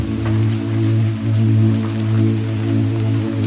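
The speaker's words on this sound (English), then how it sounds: "She listens to the sound of the rain trickling down the fabric of the umbrella." Steady rain trickling and pattering on umbrella fabric on a lamp-lit street, soft continuous droplet sounds over a low, constant hum, with no talking.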